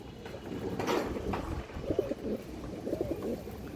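Soft, low cooing from a female pigeon, a few murmured phrases close by over a faint background hum, with no talking.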